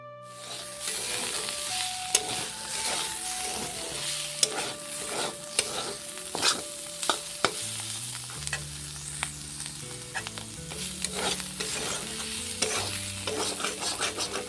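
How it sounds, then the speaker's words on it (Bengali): Potatoes and overripe bitter gourd fry and sizzle in a pan while a utensil stirs and scrapes through them in repeated strokes, close and steady throughout, with no talking. "তো প্রথমে হচ্ছে আলু করলা ভাজা করব"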